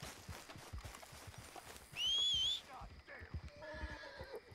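A horse in Red Dead Redemption 2 lets out a loud, rising whinny midway, amid hoof clops and game ambience, with someone talking over it.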